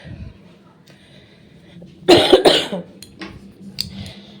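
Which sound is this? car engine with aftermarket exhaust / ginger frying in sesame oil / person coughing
person coughing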